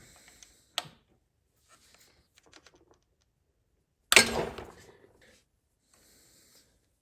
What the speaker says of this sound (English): take our 11mm wrench and we're gonna loosen this while these 3 bolts are still tight